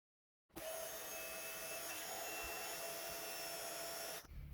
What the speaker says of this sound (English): I'm going to heat emboss that into that flat place